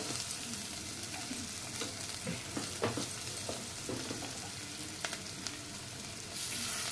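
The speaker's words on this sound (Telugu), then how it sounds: "కొత్తిమీర, కరివేపాకు వేసాను. ఇది మంచిగా ఫ్రై అవ్వాలి." Coriander and curry leaves frying in hot oil with turmeric for a Telugu-style egg curry, giving a steady close sizzle with occasional stirring scrapes throughout.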